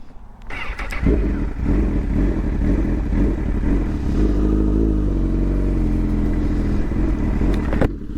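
Motorcycle engine revved repeatedly with throttle play while preparing for a wheelie, a loud close rumbling drone that rises and falls steadily for several seconds after a brief start-up clatter.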